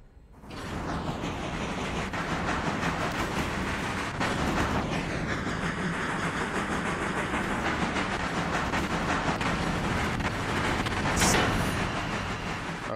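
A train in the Railroader video game rolls along at speed, a steady dense rumble with clickety-clack of wheels and faint hissing and mechanical squeal, continuous and loud throughout with no talking.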